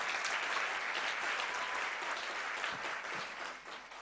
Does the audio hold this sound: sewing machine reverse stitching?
no